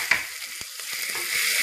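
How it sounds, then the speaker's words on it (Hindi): Chopped onion frying in a pan for Punjabi rajma masala, a bright crackling sizzle with a few sharp pops, short and close. "और अब इसमें हम ये डाल देंगे अपना कटा हुआ प्याज"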